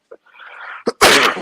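A single sneeze: a short breathy intake building up, then a sharp, loud explosive burst of air.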